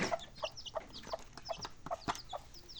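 Bantam hen with four small chicks, soft repeated clucks and high peeping calls close by, steady through the moment with no talk.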